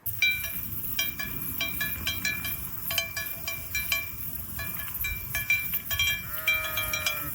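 Sheep bleat repeatedly in Bosnia, a flock calling close by in overlapping, evenly spaced cries with a steady low rumble underneath, and a faint metallic clink near the end.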